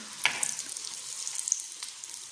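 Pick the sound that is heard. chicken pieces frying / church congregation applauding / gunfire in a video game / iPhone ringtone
chicken pieces frying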